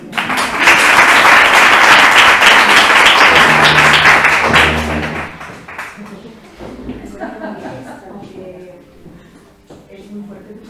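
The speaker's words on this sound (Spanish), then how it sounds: "Un aplauso para Elvira." An audience bursts into loud, sustained applause for Elvira at a theatre and gender workshop, the clapping fading after about five seconds into scattered claps, murmurs and a voice speaking.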